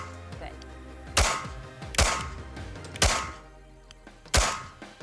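Four sharp gunshots ring out at a shooting bench, evenly spaced about a second apart, each a loud close crack with a short decaying tail over quiet background.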